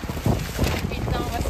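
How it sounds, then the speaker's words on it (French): Strong wind gusting on a street in Tokyo, buffeting the microphone in rough, rumbling bursts that stay loud through the short moment. "Il y a un du vent de fou."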